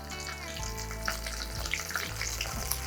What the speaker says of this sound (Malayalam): നമുക്ക് കറിവേപ്പില ഇട്ട് കൊടുക്കാം.